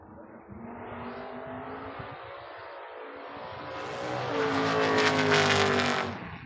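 Drag race cars, a Mercury Comet and a Mustang, rumble at the line, then roar louder as engines rev up hard, a dense, powerful close-up engine howl building toward the launch.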